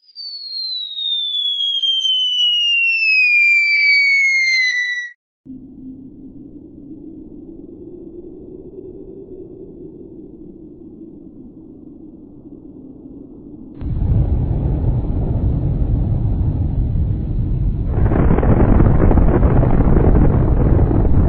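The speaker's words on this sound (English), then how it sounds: "Now let's use the most powerful nuclear bomb, just like in World War II." A nuclear bomb in an animated pony cartoon falls with a loud descending whistle, then a low rumbling roar that swells into a heavy, sustained blast and roar with no talk.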